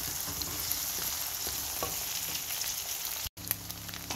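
Onions, chilies and an egg sizzle in a pan for cabbage fry, giving a steady close crackle with light stirring scrapes that run unbroken until a brief cut near the end, with nobody speaking.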